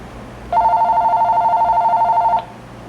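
A telephone rings once in a workshop where 3M Bondo body filler is being mixed and applied: a steady two-tone electronic trill lasting about two seconds, loud and close, with quiet room noise before and after.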